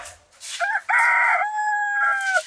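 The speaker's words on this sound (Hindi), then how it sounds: "दोनों के पेट में से मुर्गा बज रहल छै" A rooster crows once, loud and close, its call rising and holding in a long drawn-out note before trailing off, with no talk over it.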